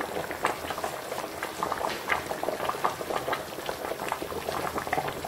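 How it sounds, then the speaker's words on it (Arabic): Chicken broth with olives boils in a pot, close up, with busy, continuous bubbling and popping that crackles steadily throughout. "وهنا هاد المرقة ديالنا راه كتغلي"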